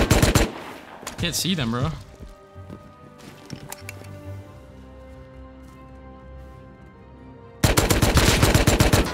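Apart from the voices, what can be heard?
silenced AK gunfire in the video game Rust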